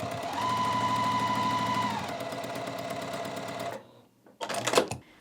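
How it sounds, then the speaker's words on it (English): Sewing machine running steadily while stitching Dresden Plate quilt blades with a quarter-inch seam, a fast even whirring rhythm for several seconds that cuts off, then a short final burst of stitching. "we're going to go ahead and take these to our machine, and we're just going to sew them together using a 1/4 inch seam allowance"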